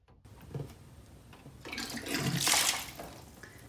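Water pours out of a tipped container in a surface-tension demonstration, a rushing splash that builds from quiet to a loud peak and then trails off, with no voices.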